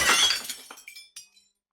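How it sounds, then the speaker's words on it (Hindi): A heavy glass vessel shatters on a marble floor in a quiet interior: one loud crash followed by scattered tinkling shards that quickly trail off into silence. "वो बर्तन पूरी ताकत से मार्बल के फर्श पे दे मारा।"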